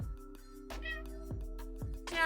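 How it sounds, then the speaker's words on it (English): A house cat meows indoors, a few short, fairly faint calls set against a steady musical background. "my cats are very active because I'm home"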